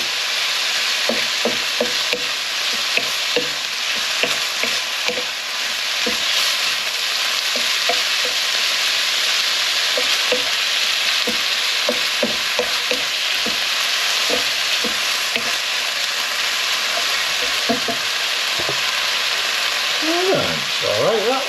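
Pork and kimchi fried rice stirred in a frying pan, a steady loud sizzle with repeated scraping clicks of the utensil against the pan throughout.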